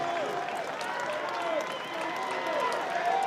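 Crowd at a baseball stadium during a 2024 NCAA regional game between North Carolina and Long Island, a steady distant roar of cheering and clapping with whistles, spreading evenly under faint announcer talk.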